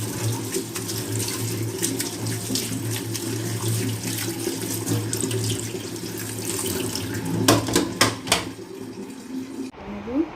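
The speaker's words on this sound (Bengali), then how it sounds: "একটু ঠান্ডা পানি দিয়ে ধুয়ে নেব" Boiled noodles are rinsed under a cold running kitchen tap, which makes a steady, close rush of water for the whole stretch. Some brief clatter comes near the end before the flow cuts off.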